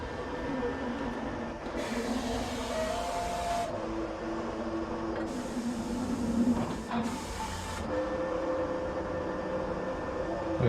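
Vinyl plotter printing window tint film for a 2019 RAM 1500, a steady whirring hum with motor runs that rise and stop in bursts, moderately loud and continuous with no talk.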